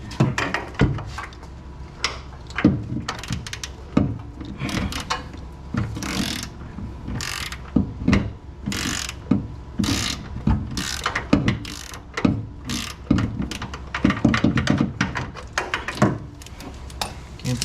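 A ratchet socket wrench clicks in short, uneven bursts of sharp ratcheting during engine disassembly in a garage, close and distinct, with pauses and occasional tool knocks between strokes.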